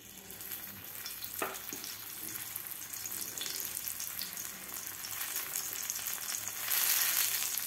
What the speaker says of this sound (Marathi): थोडं तेल टाकून आपल्याला हे कांदा भाजून घ्यायचा आहे तेलामध्ये